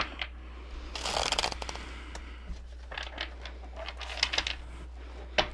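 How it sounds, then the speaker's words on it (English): Playing cards are shuffled in a few quick riffling bursts, close and crisp, over a low steady hum with no talking. "Y'all saw me shuffle."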